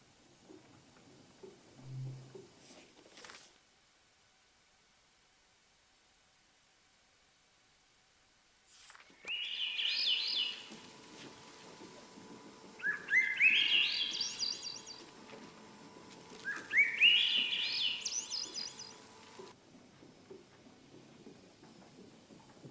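Small birds chirp in three bright, twittering bursts spaced a few seconds apart, fairly close and clear against a quiet, faintly hissing outdoor background.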